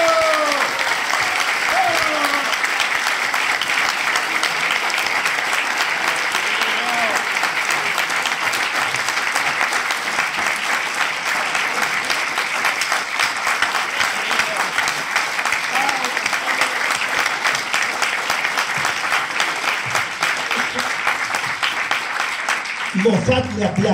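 Sustained audience applause at a book presentation in Spanish, steady and dense clapping filling the room for about twenty-three seconds before cutting off abruptly at the end.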